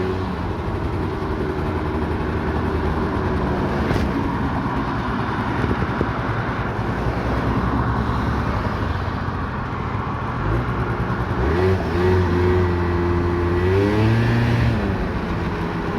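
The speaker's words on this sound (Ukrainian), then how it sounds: "Скутер з звичайним двохтактним двигуном" A Honda Dio AF35 scooter with an ordinary two-stroke engine runs steadily and close by for the whole stretch, with a rise in revs and a rising pitch toward the end, and no talking over it.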